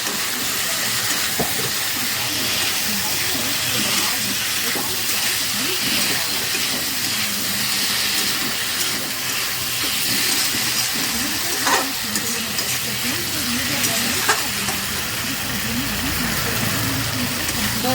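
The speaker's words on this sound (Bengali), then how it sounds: "ভেজে রাখা আলুটা দিয়ে দিলাম।" Fried potatoes go into sizzling fish curry masala for a silver carp dish, and a loud, steady frying hiss fills the whole stretch up close.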